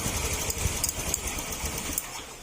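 A Honda Click 125 scooter engine with a shorted ECU runs with a steady, busy mechanical clatter close by, with small ticks and knocks throughout and no clear cutoff before the end.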